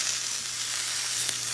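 Sliced mushrooms sizzle steadily in a frying pan, a soft continuous crackle with a low hum underneath and no talking.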